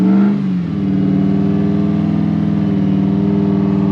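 Toyota Surf 4Runner fitted with a 1UZ V8, driving off-road and stuck: a loud, close, sustained engine drone holding at high revs after a brief rise, rough and steady throughout.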